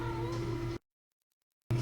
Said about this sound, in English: Got a little whiny kitty today.